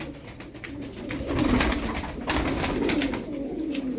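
Turkish tumbler play pigeons coo softly and steadily close by, with a low continuous murmur of several birds under a faint outdoor hiss.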